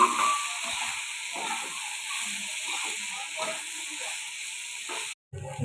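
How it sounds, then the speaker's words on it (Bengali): Steamed vegetables fry in hot oil in a kadai, giving a soft, steady sizzle and hiss with light stirring, cutting out briefly near the end. "সবজিগুলোকে একটু ভালো করে ভেজে নেব।"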